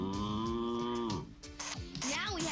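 A cow on a farm gives a long, loud, close moo, then a short pause and a second, rougher low call, heard on its own.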